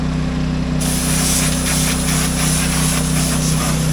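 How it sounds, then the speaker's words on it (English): Compressed air blasting out a tractor's radiator and condenser, a loud continuous hiss over a steady low engine hum, starting abruptly and holding without a break. "I was blowing the radiator and the condenser out on this tractor, and Grace asked if she could do it"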